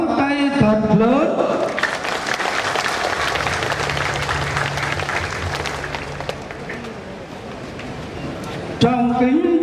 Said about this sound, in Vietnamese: Con kính xin Đức cha và quý cha thưởng cho công đoàn dân Chúa đang hiện diện một tràng pháo tay thật lớn.